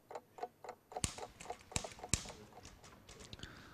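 Wind-up clock ticking close by, a run of crisp regular ticks with a few sharper, louder clicks mixed in, heard alone without talk.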